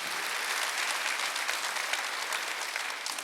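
A church congregation at a Sunday service applauds steadily, dense clapping throughout at an even level, with no voices standing out.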